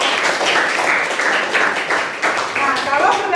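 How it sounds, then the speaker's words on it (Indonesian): Classmates clap for a student during an art lesson, several bursts of moderate applause in a room, with a voice talking over it. "Silakan tepuk tangan juga untuk kamu ya"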